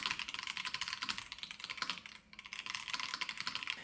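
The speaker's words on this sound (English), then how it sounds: "the thocky sound of the keyboard is solid and pleasant" Typing on an ROG Azoth mechanical keyboard with linear switches, rapid close keystrokes in a continuous flurry with a brief pause midway, each press a soft, deep clack.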